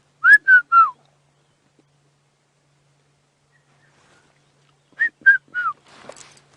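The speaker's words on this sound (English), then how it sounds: "we can hear a red-chested cuckoo in the background as well." Red-chested cuckoo calling on a safari drive, two bursts of three clear descending whistled notes separated by a long silence, fairly near and alone, with a faint rustle at the end.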